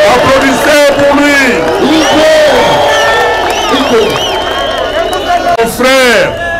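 A large outdoor political rally crowd in Goma cheers and whoops loudly, with shouting voices and a speaker's amplified talk over the sustained roar.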